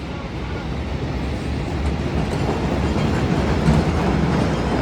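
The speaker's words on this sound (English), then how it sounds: "And then you have the L rumbling over." An elevated Chicago L train rumbles overhead at the State/Lake station downtown, a steady loud low roar with faint clattering that holds for several seconds.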